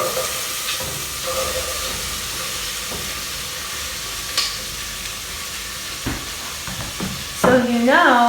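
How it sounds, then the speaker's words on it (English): Chopped onions hitting a hot pot for a creamy nettle soup, giving a steady broadband sizzle throughout, a few stirring knocks, and a brief voice near the end. "let's throw in the onions."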